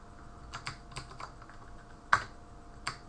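Keys tapped on a computer keyboard while typing a terminal command on Ubuntu 12.04, about seven sharp, uneven clicks close to the microphone with one louder strike.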